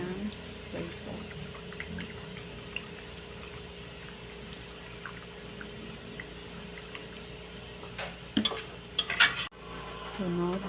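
Chicken with soy sauce being stirred in a cooking pan, soft background sizzle with scattered clinks, then louder utensil scrapes and clatters near the end.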